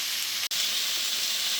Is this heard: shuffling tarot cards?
no